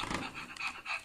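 A Fur Fluffs interactive toy dog pants in quick, breathy huffs, close and steady, with a hissy electronic edge to each breath.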